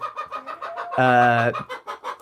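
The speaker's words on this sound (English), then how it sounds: "now she's going to complain about it" A hen clucks in a rapid, rhythmic series of squawks, then lets out one long drawn-out complaining call, close and loud.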